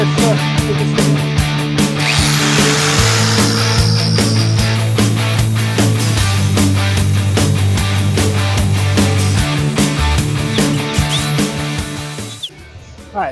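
A power sander grinds steadily on metal body filler on the roof panel of a 1967 Pontiac Firebird 400, loud and close with a droning tone that shifts pitch, then cuts off abruptly near the end.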